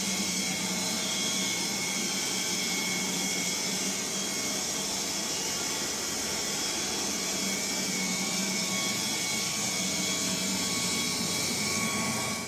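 Shop chip collector blowing straight out through a pipe to the outside, a steady loud broadband roar and whoosh that holds unchanged throughout, heard from about six feet away with no talking.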